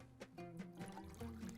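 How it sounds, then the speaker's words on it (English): Water pours briefly at close range in a short continuous stream, with no voices. "So I'm gonna put the water there"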